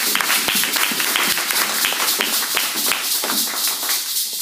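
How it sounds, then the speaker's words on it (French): Applause from a church congregation acclaiming Jesus during a Sunday service, sustained dense clapping from many hands, steady and fairly loud from start to finish with no speech over it. "Est-ce qu'on peut acclamer pour Jésus?"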